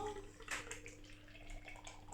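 Beer from a can poured into a glass, a soft splashing, fizzing pour with a brief brighter surge near the start, quiet and close with low steady background hum.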